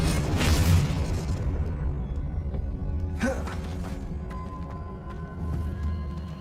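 Confringo spell explosions in the Hogwarts Legacy video game: a heavy boom near the start and a second sharp blast a few seconds later, over a continuous low rumbling game soundscape.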